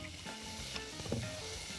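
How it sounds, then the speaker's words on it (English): Soft, steady sizzling of food frying in a pan, a continuous crackle with small pops, fairly quiet and with no voices. "I love the sizzle."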